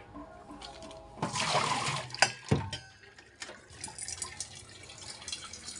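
Tap water runs into a household sink during washing, a short rushing burst that swells and splashes for about a second and a half before fading back to quieter trickles and clatter.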